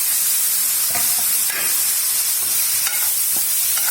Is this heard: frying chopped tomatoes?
yes